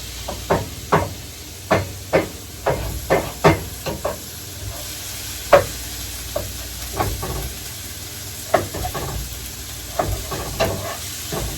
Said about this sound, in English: So we're just sauteing the onions and stuff down